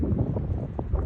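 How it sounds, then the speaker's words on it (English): Strong gusty wind during a windstorm under a wind advisory in Lewis Center, Ohio, roaring and buffeting the microphone in a brief, steady low rush. "This is the wind,"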